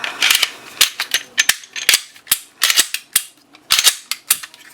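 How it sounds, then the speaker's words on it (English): Repeated dry-fire trigger pulls on an IWI Masada pistol fitted with a performance spring kit, giving a series of sharp, close metallic clicks in irregular bursts, loud and alone with no talk. "Nice light trigger pull."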